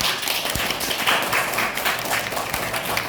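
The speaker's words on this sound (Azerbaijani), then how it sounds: "Uşaqlar, gəlin müəlliməmizi də alqışlayaq." Children in a second-grade maths class clap together for their teacher after a competition on odd and even numbers, a steady, dense patter of many small hands close by with no talking.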